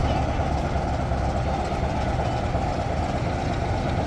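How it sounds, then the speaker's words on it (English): A vintage diesel locomotive at an autumn diesel gala on the East Lancashire Railway runs with a loud, steady low engine rumble and broadband mechanical noise that stays constant throughout. "Another one of the vintage, or as other people call it, old diesel locos."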